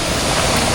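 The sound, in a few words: river water rushing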